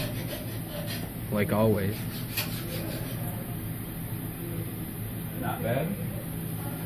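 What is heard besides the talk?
HAAS V1 CNC mill milling pockets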